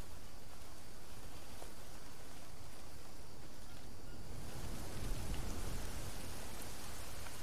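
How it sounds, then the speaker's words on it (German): Steady rain shower in the jungle survival game Green Hell, a dense even hiss of falling drops that swells slightly heavier toward the end, with no voices over it. "Nee, es regnet immer noch."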